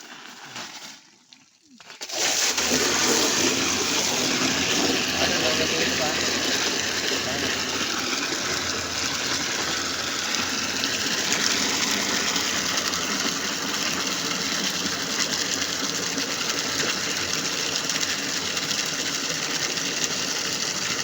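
Liquid pumped forcefully into a 200 litre barrel, starting after a brief pause and then roaring in a loud, steady gushing rush with a mechanical drone that holds for the rest of the span, close by.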